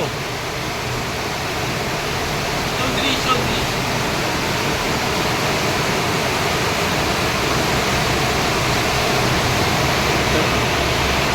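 Water rushes beneath the Durgapur bridge in West Bengal as one loud, unbroken roar that holds steady throughout.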